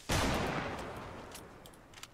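A Fortnite gunshot cracks out loud and close, then a reverberant tail decays over about two seconds, with faint clicks near the end.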